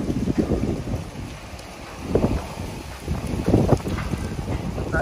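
Strong gusty wind buffets the microphone outdoors beside a parked car ahead of an approaching storm, a steady roar with several louder surges.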